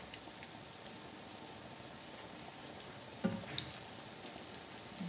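Vegetable cutlets frying in a pan over a medium flame, a steady faint crackling sizzle with scattered pops and a brief louder spatter midway.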